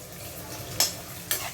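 Small sambar onions sautéing in hot oil in a pan for a Tamil crab gravy give a steady low sizzle, broken by two brief sharper scrapes of a stirring spoon, with no voices.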